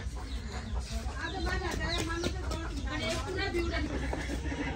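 Rooster clucking nearby in a rhythmic series of short calls, mixed with people chatting over it.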